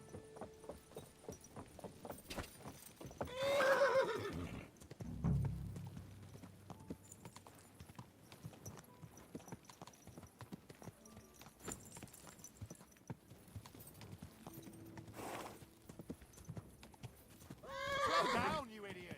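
A horse in Kingdom Come: Deliverance II whinnies loudly twice, with a break between the calls, over a soft clip-clop of hooves and scattered game sounds.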